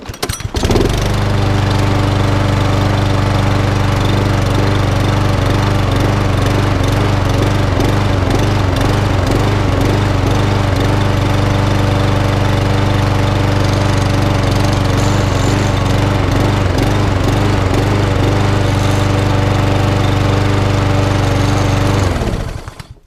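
A lawn mower engine started on choke catches immediately and runs loud and steady at a constant high speed, close by, for over twenty seconds before cutting out at the end.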